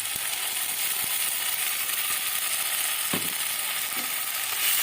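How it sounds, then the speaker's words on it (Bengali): Tomato paste is stirred into tangra fish curry frying in a pan, producing a continuous bright hiss with a few faint taps of the spoon against the pan. "এবার বন্ধুরা এর মধ্যে ওই টমেটো পেস্টটা দিয়ে দেবো"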